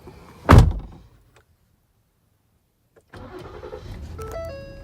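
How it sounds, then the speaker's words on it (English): A Ford Explorer, 2011–2019 model range, has its engine cranked and started after an oil change: a sharp loud thump, a stretch of near silence, then the engine catches and settles into a steady idle with clicking and rattles. "So we're going to crank her up."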